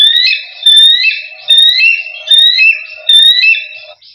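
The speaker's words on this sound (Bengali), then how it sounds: "ঈগল, ঈগল মানে ঈগল।" A children's sound book plays an electronic eagle call, four loud, shrill, trilling bursts repeated at a regular pace with short gaps between them, clean and close.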